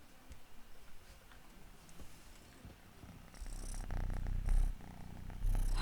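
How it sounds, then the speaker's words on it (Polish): A ginger cat purrs close up in a soft, rhythmic rumble that grows louder and fuller in the second half, broken by a few brief louder bursts. "Mruczydło rude."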